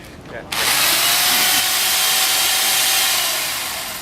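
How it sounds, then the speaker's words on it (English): A loud chainsaw starts abruptly and runs steadily with a high buzzing whine, staying close and dominant before easing off slightly near the end. "Everybody likes the sound of the chainsaw."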